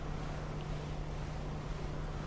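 A hovercraft engine thrusts steadily in a vehicle sandbox video game, a constant broadband roar with a low hum underneath and no change in level.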